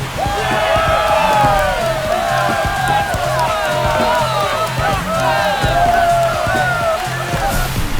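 A home crowd roars in a baseball video game, MLB The Show 25, after the White Sox hit a walk-off home run against the Houston Astros; loud, sustained cheering fills the whole stretch with a steady wash of noise.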